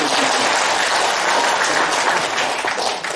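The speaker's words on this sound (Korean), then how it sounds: "박수 한번 쳐보시죠." A crowd claps steadily and densely for about three seconds at a choir academy's festive gathering, a continuous wash of applause with no pauses that eases slightly at the end.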